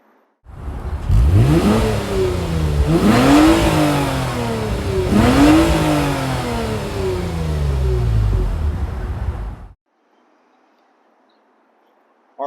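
A 2022 Lexus IS 350 F Sport AWD with its 3.5-liter V6 fires up and revs hard three times, each climb rising and falling back to idle, loud and close, then cuts off abruptly into near silence.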